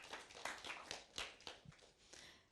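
Audience applauding composers at an arts roundtable: a brief, moderate round of clapping from a small crowd, fairly distant and even, fading slightly toward the end.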